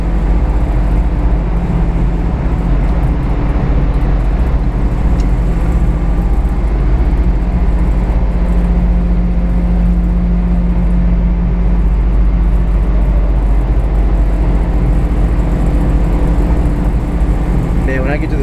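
A supercharged 1991 Subaru Sambar kei van cruising on a US highway: a loud, unbroken drone of engine and road noise that holds steady throughout.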